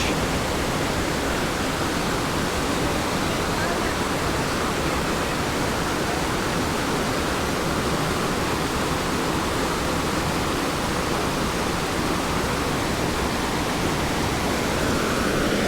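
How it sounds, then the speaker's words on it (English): Roiling water of a mountain stream near Comet Falls, a loud, continuous broadband rush with no breaks, close by and alone. "Look at the roiling water."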